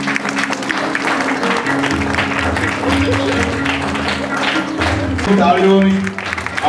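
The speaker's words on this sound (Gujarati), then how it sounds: "ફરીવાર તાળીઓથી વધાવી લે" Audience applause at a village ceremony in Ghanghali, Sihor taluka, marking the start of the Viksit Bharat Sankalp Yatra. Steady, dense clapping runs the whole time beneath a loud voice on a public-address system, with music-like tones late.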